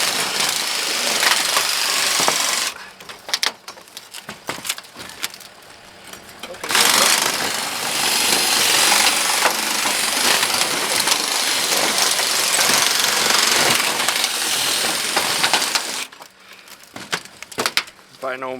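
A power tool cuts through ridged steel building panel with a loud, grinding whine in long bursts, broken by short pauses and a brief clattering gap; a voice is heard between cuts.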